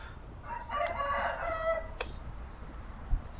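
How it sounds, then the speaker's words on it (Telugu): A rooster crows once, a drawn-out call heard at a moderate distance in a quiet village beside a small railway station in Japan. A short sharp click follows, then faint background hum. "కోడి సౌండ్"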